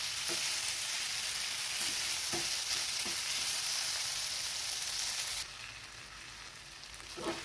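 Curd pulao sizzling steadily in a pan while being sautéed and stirred, a continuous frying hiss with occasional soft scrape knocks from the spoon, dropping somewhat quieter near the end.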